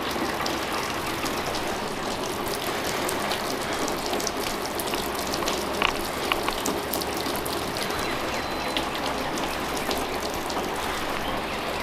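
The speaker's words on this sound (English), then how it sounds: "it's doing nothing but raining, and it's supposed to rain all day" Rain falls steadily and heavily outdoors, a dense, even hiss with occasional louder drips, continuous throughout with no talking.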